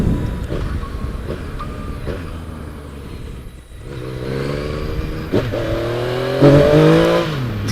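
Yamaha FJ-09 Tracer 900 motorcycle engine accelerating through gears, a loud rising drone with rev climbs and a brief shift dip, heard up close over wind rush.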